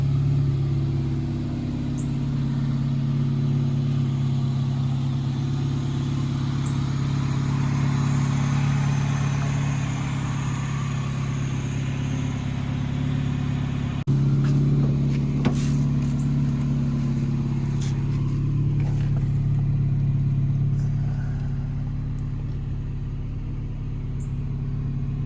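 A 2000 Honda Civic with a D16Y7 engine runs steadily at idle, a close, even hum with a brief shift partway through and no voices.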